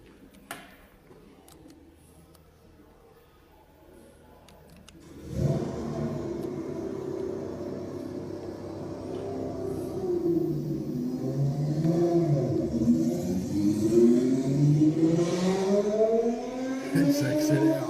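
A car at the Matra museum in Romorantin starts up after a quiet stretch, then its engine revs and climbs in pitch in rising, sweeping surges, fairly close and loud.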